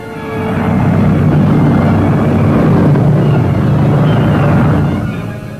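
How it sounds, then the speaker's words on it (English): An overloaded historical plane's engine drones loud and steady as it takes off from Floyd Bennett Field, swelling in, holding a dense roar, then easing off at the end. "The plane is overloaded."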